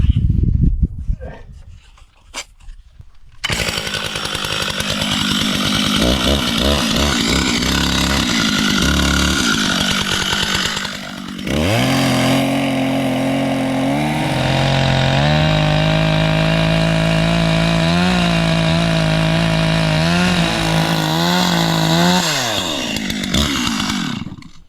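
A chainsaw revving loudly and running continuously as it is tested cutting into ice, with a brief quiet start, then a sustained roaring engine drone that shifts in pitch under load for about twenty seconds.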